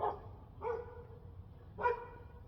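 A dog barks three times outdoors at a comic shop, moderately close, with short sharp barks spaced about a second apart and no talking over them.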